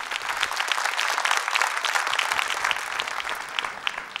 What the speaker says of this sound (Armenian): Ծափահարություններ